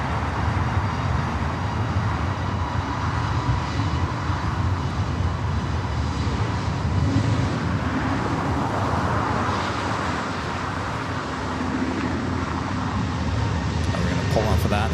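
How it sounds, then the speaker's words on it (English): British Airways Boeing 777-300ER airliner at LAX airport, a continuous loud jet roar with a broad rushing texture that holds steady across fifteen seconds, with background voices beneath it. "And up next is British Airways, the 777-300ER."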